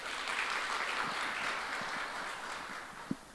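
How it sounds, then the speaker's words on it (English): A panel audience gives soft, fairly distant applause, even clapping that thins toward the end, with a single sharp knock near the close. "Please give another warm round of applause"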